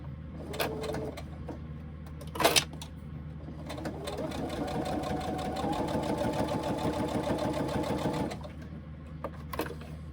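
A sewing machine stitching fabric runs steadily for several seconds in a rapid, even whir, framed by brief clicks and handling knocks before and after.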